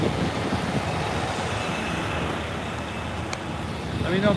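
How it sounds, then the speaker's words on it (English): A big truck delivering a tank at SpaceX Starbase in Boca Chica, Texas, gives a steady, loud roadway rumble that holds for the whole stretch without a clear break. "There's a real big truck here."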